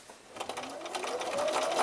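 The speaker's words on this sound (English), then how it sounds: "Turn your quilt 90 degrees, and then continue stitching down to the next corner." A sewing machine stitches down quilt binding toward a corner, a brief close burst of quick whirring whose pitch climbs as it speeds up.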